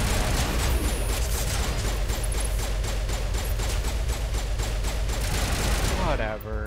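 Sustained rapid gunfire from the Mass Effect video game, dense and loud throughout, cutting off near the end into a brief electronic sound.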